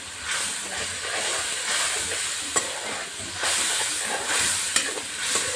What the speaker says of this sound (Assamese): এতিয়া মিহলাই লোৱা মছলাখিনি ইয়াত দি দিম